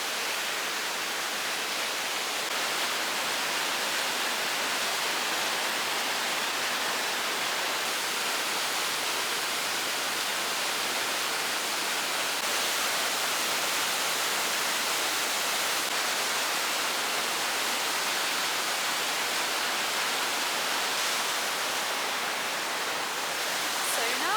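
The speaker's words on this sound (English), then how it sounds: "Down the waterfall." Aira Force waterfall in the Lake District roars as a constant, even rush of falling water, steady and unbroken throughout.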